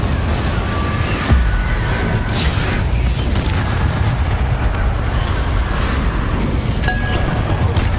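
Confringo fire spell exploding in the Hogwarts Legacy video game, a booming burst over a dense, continuous rumble of combat effects, loud and sustained throughout with scattered bright crackles.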